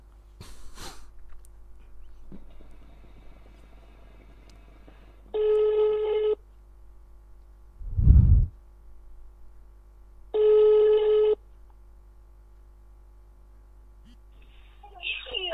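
Outgoing telephone call placed as a prank, with two separate ringback tones of about a second each, a dull thump between them and faint background noise, no voices.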